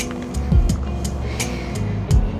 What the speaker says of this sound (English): you can see the compressor here, and you can see that the pump is turned on right now